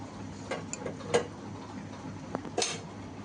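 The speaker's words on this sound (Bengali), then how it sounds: "সব মাছগুলোকে ঝোলের ভিতর দিয়ে নিতে হবে ভালো করে দিয়ে নেড়ে চেড়ে নিতে হবে" Tengra fish curry with potato and pointed gourd being stirred in a pot: a few soft, sparse spoon clinks and scrapes against the metal over a quiet room background.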